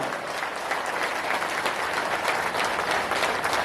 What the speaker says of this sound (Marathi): टाळ्याचा आवाज आला पाहिजे जोरात